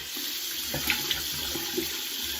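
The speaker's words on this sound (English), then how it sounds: "I'm just washing my face off with some cold water" Cold tap water runs steadily into a sink while someone splashes and washes their face, a close continuous stream with small splashes and no talking.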